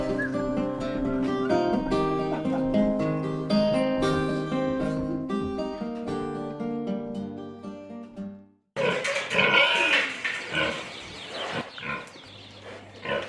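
Tamworth pigs grunt and squeal loudly up close in a noisy burst, following a stretch of music with sustained tones.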